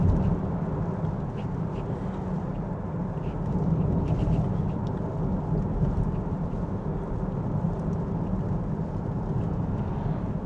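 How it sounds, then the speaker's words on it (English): Steady dense rain drumming on a car driving along roads near Blidworth, Nottinghamshire, a continuous loud wash of rain and road rumble with no talking. "It's now raining."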